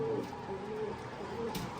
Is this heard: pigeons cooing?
yes